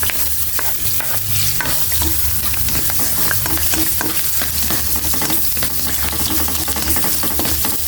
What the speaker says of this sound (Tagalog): Maggisa na po ako ng bawang.